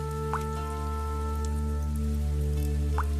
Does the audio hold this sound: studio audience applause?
no